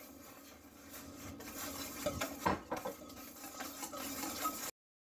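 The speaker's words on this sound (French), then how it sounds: "Et là on va ajouter l'huile en continuant constamment de fouetter" A whisk scraping and tapping steadily in a bowl as oil goes into Caesar salad dressing, quiet close-up rubbing with a few brighter clinks, then sudden silence at the end.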